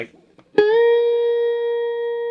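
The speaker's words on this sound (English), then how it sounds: "So I hit the reverb, splash the reverb, right?" A single electric guitar note rings out after a sharp attack, sustaining smoothly with a wash of reverb trailing behind it.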